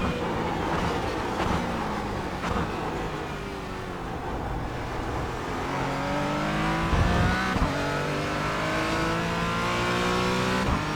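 Porsche Cayman GT4 engine in iRacing at Sebring, a continuous loud onboard drone rising through the revs, dipping at upshifts, then climbing again, steady and close with no talking.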